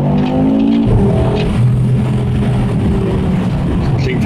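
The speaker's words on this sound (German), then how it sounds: "Dieses 5-Zylinder-Geräusch, das gehört einfach zu dem Auto." An Audi RS3 8Y five-cylinder engine with a Provocateur exhaust drones loudly and continuously, heard from inside the car with the window open, a steady rumbling roar throughout.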